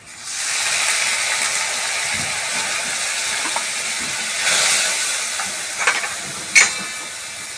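Onion, garlic and chili frying in a pan of hot oil, a broad continuous hiss and sizzle with a swell midway and a few sharp utensil clicks toward the end, no voices.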